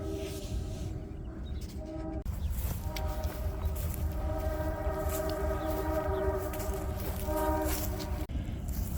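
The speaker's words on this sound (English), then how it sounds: "Sorry about the train in the background." A train passes in the background beside farm fields, a continuous low rumble of rolling wagons topped by a sustained, fairly distant horn blast, with no talking.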